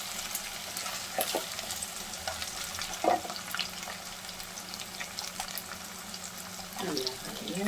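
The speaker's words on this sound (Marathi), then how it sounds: "नाहीतर आपण याच्यावरतीच मसाला घालून मस्त फ्राय करायचा" Potato and brinjal fry with roasted masala in a pan, making a moderate, continuous sizzle. Occasional clinks and scrapes of stirring cut through, with a louder scrape near the end.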